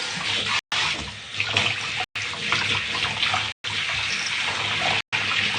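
Tap water runs steadily in a bathroom while a hair mask is rinsed out, a broad close splashing rush broken by a few very short gaps where the flow is interrupted.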